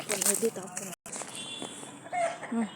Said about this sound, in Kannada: ಇದು ಬೈಪುರ್ಕ ಹುಂಜ ಅಂತ ನಾವು ಕರೀತೀರಿ